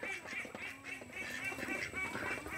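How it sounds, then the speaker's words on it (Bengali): Ducks quack repeatedly in a rural village yard, a run of close, nasal calls that come in quick bursts over faint background noise. "ওই যে হাঁস খায়, দেখছো?"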